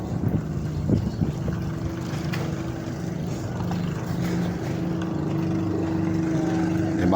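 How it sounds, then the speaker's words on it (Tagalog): Small bangka boat motoring past on the sea off Zamboanga City, a steady low engine drone that holds through the whole stretch, mixed with wind buffeting the microphone and a few faint knocks near the start. "May bangka dumadaan master."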